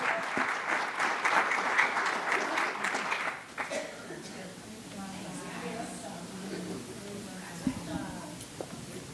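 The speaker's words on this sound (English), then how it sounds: "Can we have another round of applause for them?" An audience at a board of education meeting applauds, a dense crowd clapping that fades after a few seconds into scattered claps beneath a voice speaking.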